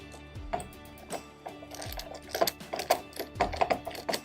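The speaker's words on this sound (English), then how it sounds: "the best practice is with your ratchet is to tighten the bolt on one side" A ratchet tightens a bolt on a valve during a diaphragm replacement, producing irregular bursts of quick mechanical clicks and taps, close and fairly quiet, with no talking.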